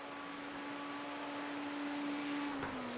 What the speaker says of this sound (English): That red Ferrari working his way down into the Senna S's